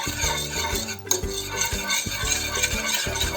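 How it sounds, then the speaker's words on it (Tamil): Spoon stirring 400 ml of milk in a pan for white sauce, steady rhythmic scraping and metallic clinks against the pan, close and clear, with no talk. "இதை கட்டி இல்லாமல் கலக்கிக்கோங்க, இல்லைன்னா சாஸ் வராது உங்களுக்கு."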